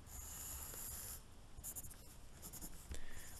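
A number line is written by hand, with a pen or pencil scratching across paper in short strokes, quiet and close, with no talking.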